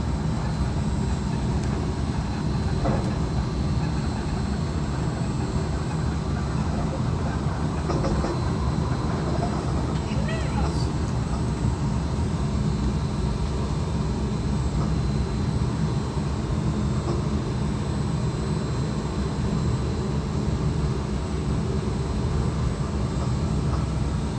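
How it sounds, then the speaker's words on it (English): Inside the Disneyland monorail heading toward the Tomorrowland station, a steady rumbling hum of the moving train continues throughout, with faint rattles and brief squeaks over the constant drone. "Please remain seated until the monorail comes to a complete stop."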